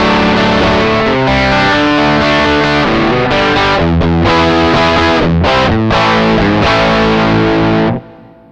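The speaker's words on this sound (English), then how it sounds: "If I turn the SansAmp on, that'll give us our fundamental guitar amp," A PRS Studio electric guitar played through SansAmp amp simulation with reverb rings out in loud, distorted chords and riffs that sustain, then cut off abruptly near the end.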